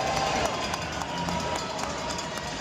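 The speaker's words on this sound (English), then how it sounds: "A loud cheer from the crowd as the sellout crowd applauds the now working time clock" A sellout junior hockey crowd at a Game 7 in Kitchener roars with a loud, sustained cheer and applause that fills the arena evenly from start to finish.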